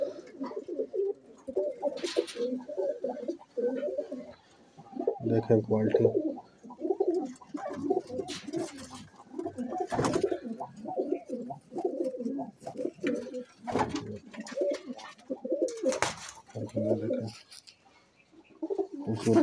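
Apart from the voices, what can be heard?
Teddy Golden Kamghar pigeons cooing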